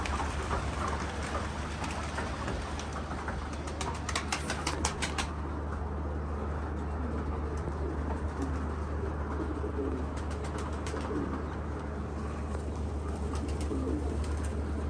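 Pigeons coo softly amid steady background noise, with occasional wing flaps and a continuous rushing hiss throughout.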